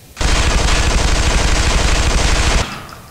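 Automatic weapon fire in the shooter game Interstellar Marines: one sustained, loud, rapid burst of gunfire that runs about two and a half seconds with no talk, then cuts off.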